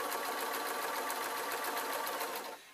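Sewing machine stitching a waistcoat lining, a fast steady whirring chatter of the needle close up that runs evenly and then winds down at the end.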